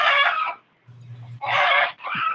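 A rooster lets out loud, harsh crowing bursts separated by a short pause, with a low clucking note in the gap, close by and without talk.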